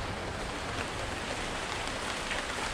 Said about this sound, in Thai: นี่ฝนก็จะตกแรงมากครับ